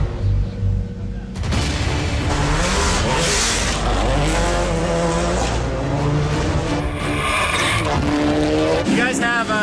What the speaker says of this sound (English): the consummate professional David Higgins lines up for his first speed run